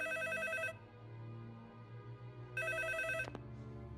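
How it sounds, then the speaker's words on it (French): A telephone bell rings close by in two bright, trilling bursts separated by a short pause. A brief clack follows the second burst over a low background murmur. "pourquoi le téléphone sonne?"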